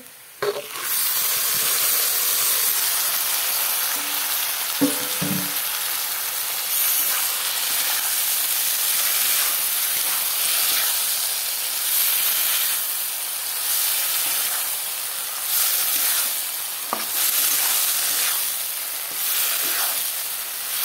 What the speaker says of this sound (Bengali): এখন মাছগুলো তেলে দিয়ে দেব